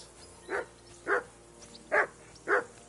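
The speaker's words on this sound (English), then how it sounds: "assume you can hear that damn dog of yours barking." A dog barks in the video game Kingdom Come: Deliverance 2, four evenly spaced, fairly close barks over a quiet low ambient hum.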